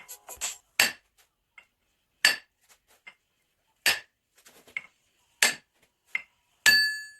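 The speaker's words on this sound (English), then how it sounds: "tap the ring gear off of the carrier." A hammer drives a brass punch to knock the ring gear off a Toyota differential carrier while a lunchbox locker is being installed. There are about six sharp, ringing metallic taps spaced roughly 1.5 seconds apart, close and otherwise quiet.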